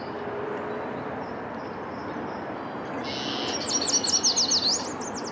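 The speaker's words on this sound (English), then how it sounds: "This is a northern rough-winged swallow." A northern rough-winged swallow calls in a park with a short run of rapid, buzzy, rising chirps near the end, heard close over a steady background hiss and faint distant bird notes.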